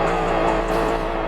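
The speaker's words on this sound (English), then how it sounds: "Vehicle sounds, I mean, they're not bad. They sound pretty good." Aston Martin Victor engine in Roblox Driving Empire, a loud, steady, sustained drone that stays at constant pitch and volume, with no talking.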